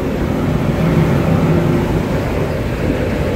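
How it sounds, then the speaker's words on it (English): The mechanical exhaust fan of a ship's CO2 room on a cargo vessel whose hold smoke detection system is faulty, a loud, close, steady low droning whir that runs continuously with no voices. "Mechanical exhaust ng CO2 room."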